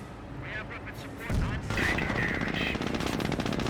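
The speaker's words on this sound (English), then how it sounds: "Jeep firing away, getting some shots there onto the light ATF track." Jeep machine gun fire in the video game Company of Heroes, with rapid bursts of rattling shots and heavier blasts layered over battle noise, under a commentator's voice.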